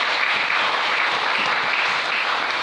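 A church congregation applauds steadily and loudly, with dense, sustained clapping filling the room and no speech over it.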